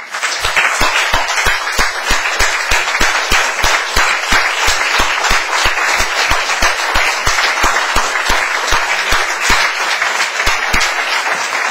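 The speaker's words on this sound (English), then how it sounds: "let's have an applause or even a standing ovation to Yosel Buchmann." Loud, sustained audience applause at an anniversary event for a doctoral scholarship fund, a large crowd clapping in strong rhythmic unison, like an ovation, steady for the whole stretch.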